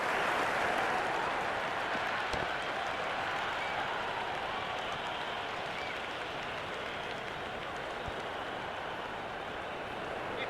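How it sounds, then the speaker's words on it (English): A cricket stadium crowd at a T20 semi-final between Pakistan and South Africa keeps up a dense, steady wash of applause and cheering from a distance, even and sustained throughout. "The crowd is electric right now."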